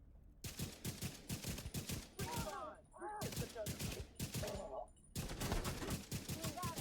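Rifle fire in The Division 2, rapid bursts of sharp, loud shots in clusters separated by short gaps, with game voice chatter heard between the volleys.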